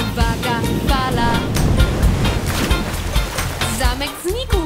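An animated wave surges and crashes onto a beach in a children's cartoon, a loud rushing wash with splashy bursts that rides under lively talk and music.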